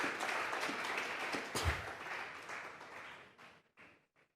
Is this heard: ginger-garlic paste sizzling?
no